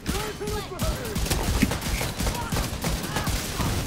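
Gunfire in the video game The Division 2 during a speedrun mission, with rapid overlapping bursts and shots in a loud, continuous barrage and players talking over it.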